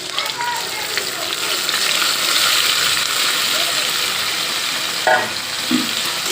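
Onion, ginger and garlic paste sizzling loudly in a pan of oil for a chicken curry, a dense continuous hiss up close with a few scraping stirs near the end.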